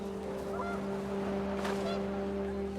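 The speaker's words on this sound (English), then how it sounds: "panicked geese appeared and quickly went" Panicked geese honk in the video game What Remains of Edith Finch, several loud calls over a steady low droning background, with no talking.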